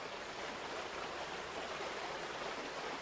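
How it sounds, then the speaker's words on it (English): A stream flows in a steady, close, even rush of water that holds constant throughout, with no voices. "It's the water. And I'm just gonna show you the water."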